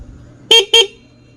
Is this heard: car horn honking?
yes